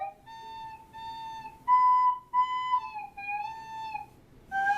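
A beginner's recorder plays a wavering series of sustained, breathy notes, some pitched high and shrill with a squeaky edge, heard alone and fairly close.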